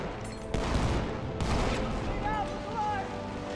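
A weapon in Battlefield 1 fires bursts of rapid shots in two dense volleys, loud and close, with softer game sounds and faint tones between them.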